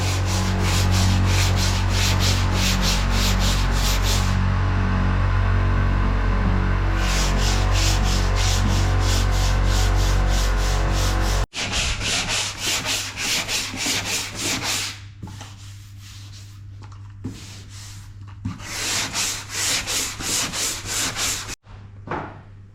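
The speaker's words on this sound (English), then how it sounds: "so while the sanding's going on the roof right now" Steady, loud machine sanding of a Volkswagen Beetle's roof with a rasping, rhythmic buzz, pausing briefly midway before resuming with a harsher, more uneven grinding texture.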